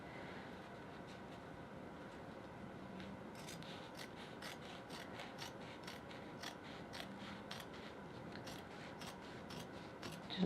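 Scissors trim flap material during flap assembly of an Allure, giving a run of faint, crisp snips that quicken midway through against a steady background hiss.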